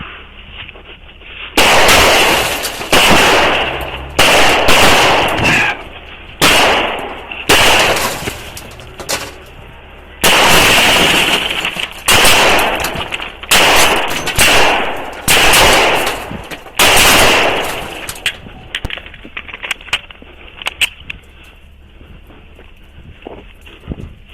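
Gunfire during a police traffic stop shootout: a long volley of loud, sharp shots in rapid bursts and clusters over roughly fifteen seconds, then fading to quieter rustling and movement.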